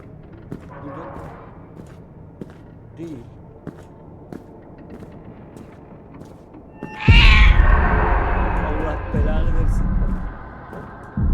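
Faint cat-like cries from the video game Order 13 over a background murmur, then a sudden loud, harsh yowl bursts in and continues as a sustained, noisy wail.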